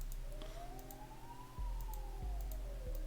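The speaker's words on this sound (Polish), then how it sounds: "O, karetka za oknem." An ambulance siren wails steadily in the distance outside, its pitch slowly rising and falling, faint beneath indoor background hum and a few soft knocks.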